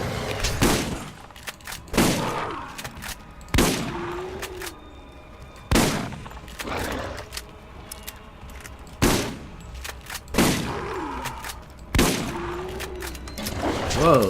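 Shotgun fire in the video game Borderlands: loud, close blasts roughly every one to two seconds, about nine in all, each with a short rumbling tail.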